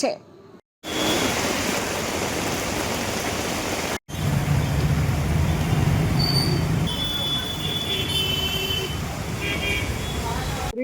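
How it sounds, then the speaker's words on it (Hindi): Heavy rain pours and floodwater rushes through a flooded mini market in Kharagpur after a prolonged downpour, a loud, steady broadband roar that fills the whole clip, broken only by two brief cuts. "इतना मिनी मार्केट में इतना पानी गिर रहा है, इतना पानी पहली बार गिरा है।"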